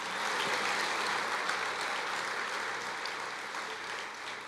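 A church congregation breaks into sustained applause at a sermon, a dense and even wash of many hands clapping that holds steady throughout.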